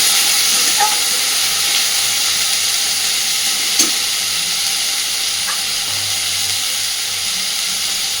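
Potatoes and onions frying in fish oil give a steady, bright sizzle and hiss from start to finish, with a couple of soft utensil knocks against the pan.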